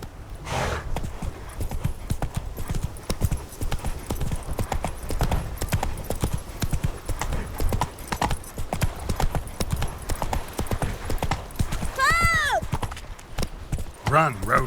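Roach the horse gallops in The Witcher 3, with rapid, rhythmic hoofbeats pounding up close throughout and a brief whinny near the end.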